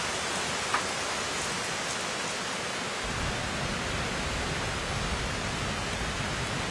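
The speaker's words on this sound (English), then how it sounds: "During the summer, Shangri-La experiences its rainy season. With the rains comes a change in the appearance of the land." Steady rain falling in Shangri-La during the summer rainy season, a dense even hiss of drops on surfaces that holds constant throughout with no voices.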